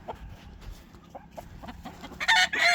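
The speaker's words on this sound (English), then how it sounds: "Really pretty rooster." A rooster in a backyard flock gives soft, scattered clucks close by, ending in a louder, sharper call.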